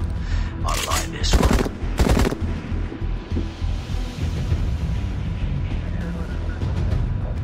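Sniper fire in the Sniper X mobile game: a few sharp, loud shots in quick succession near the start, set against a steady rumbling game backdrop with voices talking over it.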